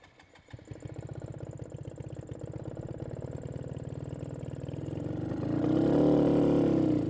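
New motorcycle engine idling unevenly around 1000 rpm, a steady mid-pitched running hum that swells and grows rougher near the end before stalling.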